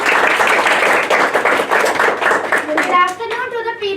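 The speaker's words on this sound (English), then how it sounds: "Welcome our Second Deputy Collector with a huge round of applause." A group claps in welcome for the Second Deputy President at a staged school press conference, busy close hand claps with children's voices mixed in, ending as the clapping tapers and a voice starts.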